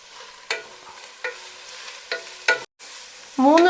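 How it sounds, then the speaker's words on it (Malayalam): Spring onions, white parts included, sauté over a high flame for restaurant-style chicken fried rice, a gentle sizzle punctuated by several sharp spatula scrapes and taps, close up, with a brief dropout near the end. "മൂന്ന് മിനിറ്റ് ഹൈ ഫ്ലെയിമിലിട്ട് ഇതെല്ലാം ഒന്ന് വാട്ടിയെടുക്കണം"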